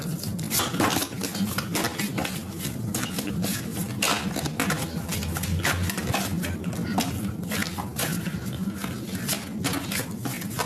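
Tarot cards being cut and handled during a reading, a dense run of crisp shuffling and clattering card sounds lasting throughout at steady close range.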